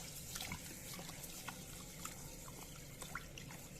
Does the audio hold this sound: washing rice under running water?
yes